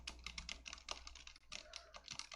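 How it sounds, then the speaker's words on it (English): Typing on a mechanical computer keyboard, with quick, uneven bursts of close clicky keystrokes and brief pauses between runs, heard without any talk. "it is somewhat harder to type with this keyboard"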